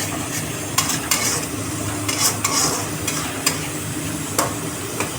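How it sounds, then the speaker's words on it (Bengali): Spice masala sizzles while being stir-fried for a cabbage curry, a steady close frying hiss broken by repeated sharp scrapes and taps of a spatula against the pan, with no voices. "এবার মশলাটাকে ভালো করে কষাবো বন্ধুরা।"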